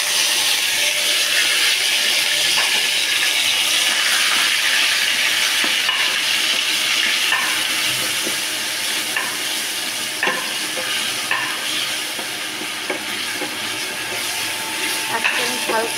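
Hand-ground spice paste with cumin and garam masala frying in a pan for spicy chicken curry, a loud steady sizzle and hiss throughout with occasional stirring taps, easing slightly in the second half.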